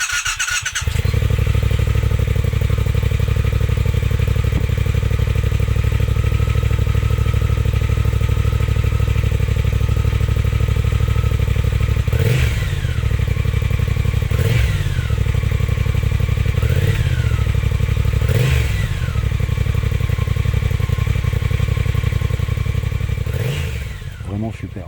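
A Triumph Speed Twin 1200 motorcycle engine runs steadily and loudly throughout with a deep idle rumble, rising in a few short revs midway and near the end, while someone talks over it.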